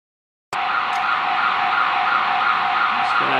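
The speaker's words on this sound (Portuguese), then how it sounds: "Vamos esperar só um pouquinho que o alarme parou, já parou" An alarm siren sounds loud and continuous, starting abruptly after a short silence and holding a steady wailing tone to the end, with no talk over it.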